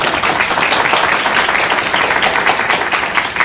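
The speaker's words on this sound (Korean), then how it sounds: "박수 부탁드립니다" An audience at a Korean young YouTubers' event gives sustained, dense applause, steady and close throughout with no talk over it.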